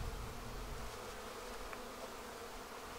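Honeybees buzz in a steady, dense drone around a hive that has just been moved a short distance, a swarm of many insects close by with no pauses and no voices.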